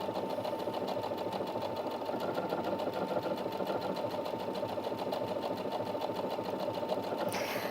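A Brother Inventio NV1350 sewing machine stitching a decorative scroll pattern through fabric, a steady, fast mechanical whir with a rapid needle rhythm running evenly at close range throughout, with no talking.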